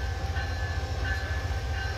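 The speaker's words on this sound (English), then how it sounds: "It's train time." A train rumbles steadily at Fullerton Station, a continuous low mechanical drone with a faint high tone overhead, close and even throughout, with no talking.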